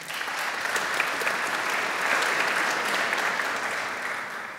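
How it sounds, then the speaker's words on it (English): Audience at a tech conference applauds the panelists, a broad, sustained sheet of many hands clapping at moderate distance that swells slightly and then tapers off. "So a big applause for the panelists."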